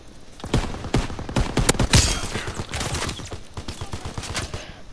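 Repeated gunshots from a team deathmatch shooter game, sharp cracks in uneven bursts over a steady background din, close and fairly loud with no talking.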